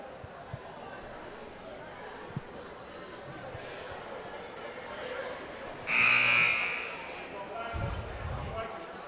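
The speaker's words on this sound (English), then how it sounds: "And the beeper made a beep." Girls high school basketball game buzzer blaring once, a loud sustained tone rising over crowd murmur and court noise, followed by low thumps.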